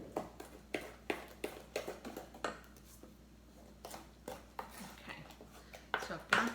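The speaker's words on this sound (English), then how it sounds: "We're going to use a spoon. So I'm mixing up the brown sugar, the butter, the eggs, and the bananas." A spoon scrapes and clacks against a bowl while banana bread batter of brown sugar, butter, eggs and mashed bananas is stirred, irregular close knocks and scrapes with a short pause midway.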